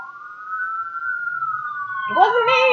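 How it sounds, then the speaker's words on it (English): An ambulance siren wails as a long, steady rising-and-falling tone at moderate distance, joined at the end by a brief burst of warbling. "that was an ambulance"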